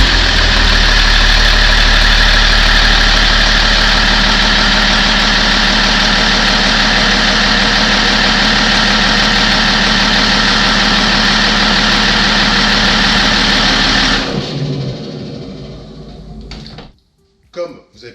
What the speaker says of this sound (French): le moteur démarre très bien et tourne correctement